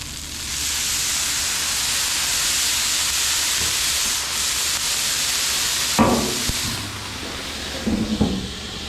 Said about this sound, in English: We'll let that steam for just a minute and we'll pull those off.